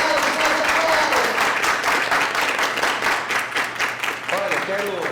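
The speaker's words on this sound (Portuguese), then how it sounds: "Mais aplausos, mais aplausos." A crowd at a dance festival keeps clapping in a continuous, fairly loud roll that eases slightly near the end, with voices calling out over it.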